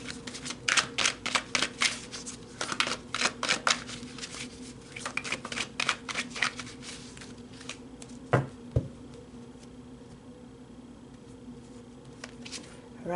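Tarot cards are shuffled and drawn by hand, giving a quiet, rapid run of riffling rattles and flicks that thins out into a few soft slaps, with occasional speech.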